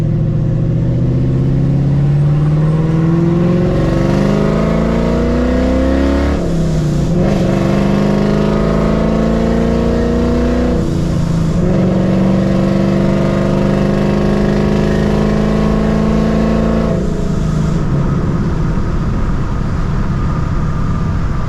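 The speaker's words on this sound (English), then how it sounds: "As you guys can see there, I mean, the car gets up and goes" Vortech-supercharged 1999-2004 Ford Mustang accelerating hard, engine pitch climbing through several gears with short dips at each shift, loud and close throughout.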